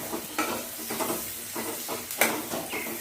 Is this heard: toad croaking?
no